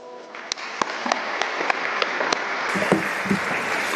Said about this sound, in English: Give His Honor a huge round of applause.